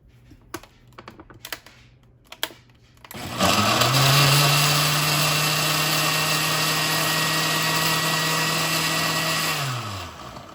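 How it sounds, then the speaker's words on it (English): A kitchen blender purees tomato with a little water for salsa: after a few clicks and handling knocks, the motor whirs up loudly, runs at a steady high whine for about six seconds, then spins down. "And we're gonna blend."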